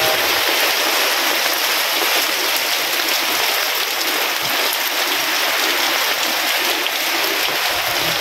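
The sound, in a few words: mountain stream water flowing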